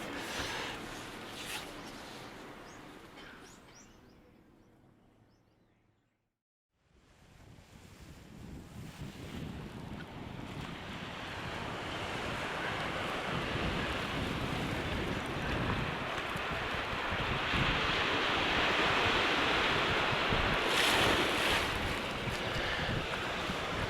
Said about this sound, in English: Well, that's the North Sea there.